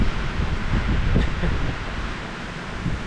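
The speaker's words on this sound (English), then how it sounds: "Boy, this wind's great." Strong wind blows across the open high country of the Colorado Trail, a steady, loud broadband rush with gusty swells and no voices.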